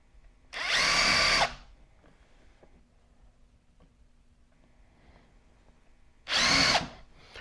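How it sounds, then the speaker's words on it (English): A power drill whirs in two short bursts, each about a second long, drilling starter holes through fiberglass on a homemade teardrop camper trailer, separated by a quiet stretch with faint background noise. "Now I'm going to drill some starter"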